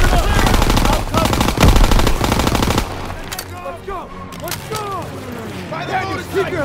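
Dense, rapid gunfire from Call of Duty: WWII hammers continuously for about three seconds, then gives way to quieter, scattered mechanical sounds and distant shots.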